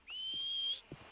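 A single clear, sustained whistle calls a horse in Red Dead Redemption 2, rising then holding steady for under a second, with faint game noise around it.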